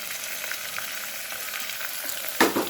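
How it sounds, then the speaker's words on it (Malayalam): Onions sizzle steadily in a hot pan for fish curry, with a continuous close frying hiss and a louder stirring scrape near the end. "ഉള്ളി വാടാനുള്ള ഉപ്പ് ഇട്ട് കൊടുക്കാം എന്നിട്ട് നന്നായി മിക്സ് ചെയ്തിട്ട്"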